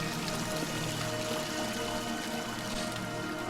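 Running water trickles and flows through a cave in the video game Dear Esther. It makes a faint, steady liquid wash with no speech.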